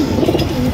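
A golden pigeon kept for sale coos close by in a brief, low, throaty burst, fairly loud and alone.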